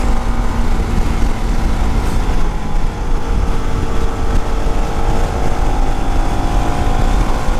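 A Yamaha WR motorcycle engine idling after a full motor and transmission rebuild to reach a spindle, a loud, steady, close buzzing drone that holds even with no pauses and no talking.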